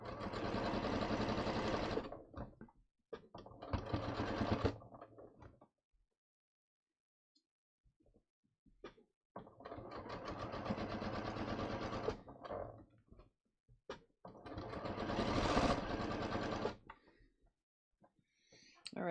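Sewing machine stitching around a drawstring hem on a tapered trouser leg, running in several loud bursts of steady whirring separated by short pauses, with faint handling noises in the gaps.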